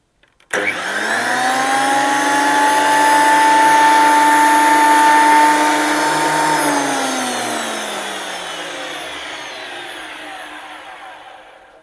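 A NASA 2012NB wood planer motor is switched on with a sudden start and rises to a loud, steady whine and hum. It runs at full speed, then slowly winds down as it coasts toward silence.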